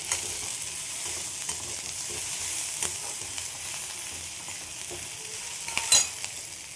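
Curry leaves sizzle in hot oil for chire polao, a steady close hiss and crackle with a few sharper pops near the end.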